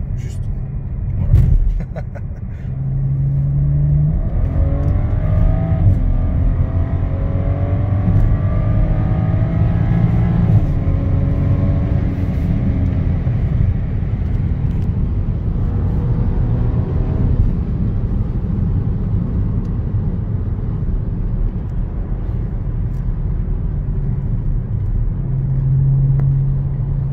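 A BMW 335i E92 with a Milltek exhaust accelerates through several gears, rising engine tones stepping up between shifts over a constant road rumble, with people talking in the car.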